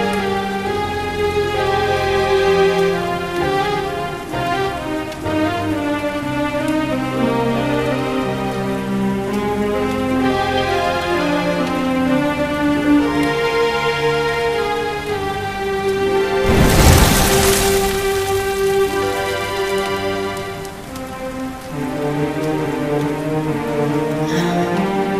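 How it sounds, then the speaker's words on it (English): Steady rain falls in the video game Dragon Quest XI, a soft continuous hiss beneath layered orchestral music, with a brief louder burst partway through. "Looks like the rain's dying down."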